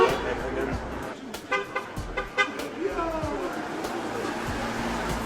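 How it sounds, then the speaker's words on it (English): Car horns honk along a community group-run route: several short toots in quick succession, heard amid passing traffic and nearby talk. "You hear them honking the horns on the route."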